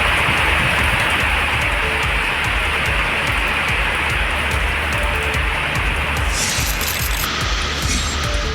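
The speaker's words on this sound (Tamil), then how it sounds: "திருச்சி மாவட்டம் துறையூர் சுற்றுவட்டார பகுதியில் ஆலங்கட்டி மழை கொட்டி தீர்த்தது" Heavy hailstorm rain pouring down in the Thuraiyur area of Trichy district, Tamil Nadu: a loud, dense, continuous roar of falling rain and pelting stones with a constant wash of hiss and no voices.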